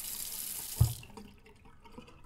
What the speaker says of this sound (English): Oh, and he giving her tap water.